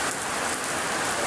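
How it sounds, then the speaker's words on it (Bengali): Heavy rain and strong wind lash a car in Dhaka, heard from inside as a dense, unbroken roar of drops and gusts, loud and close, with no voices. "এই বৃষ্টি দেখেন কি অবস্থা বৃষ্টি"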